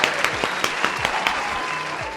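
A round of applause from an audience honoring Black women during Women's History Month: a dense, steady wash of many hands clapping, with a few sharper individual claps standing out, continuous throughout.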